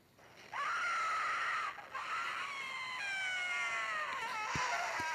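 A loud scream rings out in the horror video game Doors, a long shrill cry with a short break and then rising, wavering howls for several seconds.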